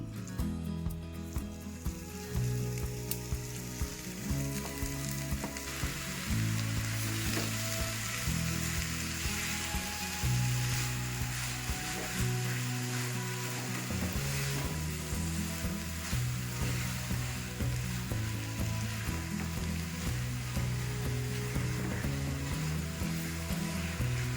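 Amla dropped into melted jaggery in a pan for amla pickle, giving a steady, loud sizzle and bubbling frying sound that runs throughout, with no talking.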